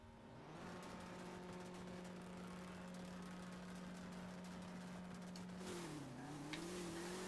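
A car in the drag racing video game No Limit 2 accelerates through a test pass, its engine holding a steady drone before a gear change makes the pitch dip and climb again, loud and continuous.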